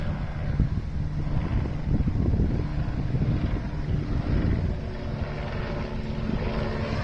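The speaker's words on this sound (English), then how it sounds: "There's a helicopter up there looking at something." Helicopter passing overhead, a distant rumbling rotor drone with wind noise that swells and fades slightly throughout, no voices.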